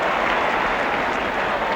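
Steady roar of a large football crowd applauding at an Oldham Athletic versus Tottenham match, a dense continuous wash of clapping and cheering with no distinct voices standing out.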